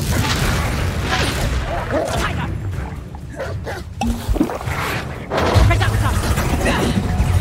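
A Confringo fire spell blasts in Hogwarts Legacy amid loud, busy combat noise, with booming impacts and roaring bursts and a heavy hit near the end, while voices shout over the fight.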